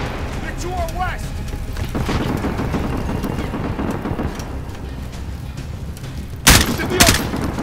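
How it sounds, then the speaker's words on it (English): Machine gun suppressive fire rattles in sustained bursts during a Modern Warfare Remake firefight, with rumbling booms and two sharp loud blasts near the end, alongside shouted voices. "Get suppressive fire on that MG!"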